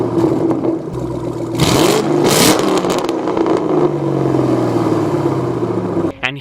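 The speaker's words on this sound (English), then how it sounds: "Here are the Borla Attacks." A Ford Mustang fitted with a Borla Attack exhaust idles with a deep burble, then blips the throttle into a sharp rev before dropping back to a rumbling idle, loud and close.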